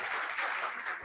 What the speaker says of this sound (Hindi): ताली पीट लो, यही मौका है